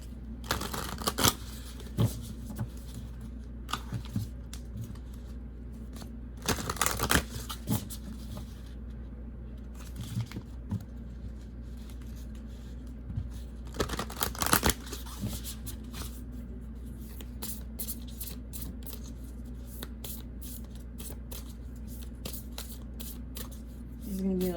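A Mermaid Oracle card deck shuffled in repeated soft riffling bursts at close range, with several louder flurries of card rustling and a person talking quietly in between.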